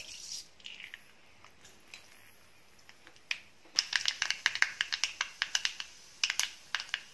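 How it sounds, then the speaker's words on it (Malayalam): Mustard seeds popping in hot coconut oil in a Kerala home kitchen, with scattered sharp crackles at first, then a dense run of quick, close pops and spits. "കടുകെല്ലാം പൊട്ടിക്കഴിഞ്ഞു"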